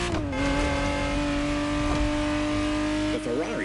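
Ferrari Testarossa engine in a racing video game, a loud sustained drone holding a steady pitch before shifting and revving upward near the end, with talk over it.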